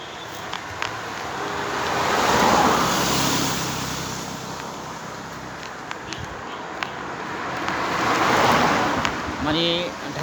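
Occasional vehicles passing on a quiet rural highway in Gopalganj, Tungipara: two slow swells as cars approach and recede, with wind and faint scattered clicks, and a brief voice near the end.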